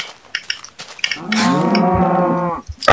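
Cow in the video game Minecraft giving a loud, close moo lasting about a second and a half, with a short clicky game sound before it and no talking.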